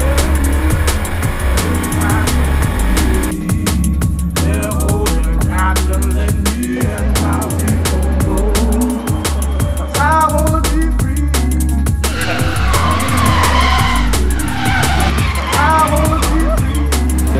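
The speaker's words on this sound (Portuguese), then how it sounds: "Ninguém nunca tinha visto os carros nacionais fazendo drift" Brazilian-made cars drifting at the first São Paulo state drift round, tires skidding and squealing with engines revving, loud and continuous throughout, with crowd noise and music in the background.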